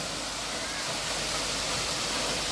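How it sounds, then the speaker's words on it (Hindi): Lugu waterfall sends a steady, dense roar of falling water, loud and unbroken throughout, with no distinct voices over it. "ये पानी गिरता हुआ"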